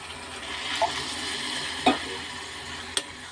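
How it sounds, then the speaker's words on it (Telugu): Water is poured into a pan of curry cooking on the stove, giving a steady hissing sizzle with a few brief clinks and splashes throughout. "కొంచెం వాటర్ పోసుకుంటున్నాను"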